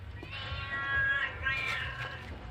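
A cat meows in a long, drawn-out, wavering cry with a lower murmur of background noise underneath, close by and fairly clear, with no speech over it.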